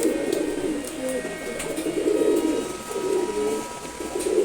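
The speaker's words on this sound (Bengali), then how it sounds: "এটাও নর কবুতর" A male pigeon coos in repeated low, soft, rolling phrases, close by in a loft with steady background hiss.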